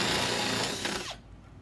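A power drill drives a screw through a plumbing pipe fitting during a bathroom renovation, a loud continuous whirring burst for about a second that cuts off abruptly, leaving quieter background.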